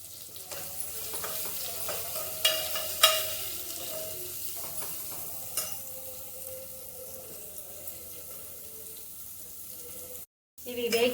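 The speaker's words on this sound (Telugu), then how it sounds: "ఇవి వేగిపోయాయండి ఆనియన్స్ అవి." Onions frying in a pan with a light pinch of salt give a continuous sizzle, broken by metal-on-pan stirring clatters and scrapes, and one short dropout near the end.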